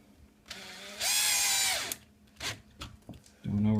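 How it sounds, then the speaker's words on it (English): Power drill driving screws into an electronic keypad lock on a bedroom door, heard as one close whir of just under a second. Shorter clicks and handling noises follow, with a brief motor burst at the end. "Screw those in."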